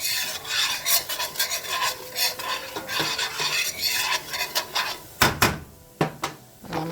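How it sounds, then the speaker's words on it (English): Seasonings are stirred into chicken pot pie filling in a pot, a steady rhythmic scraping and rasping of a utensil against the pan, close and fairly loud, with a few sharper knocks near the end. "And I'm gonna add all of my seasons. Stir that around."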